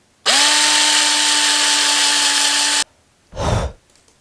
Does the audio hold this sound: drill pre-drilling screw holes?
yes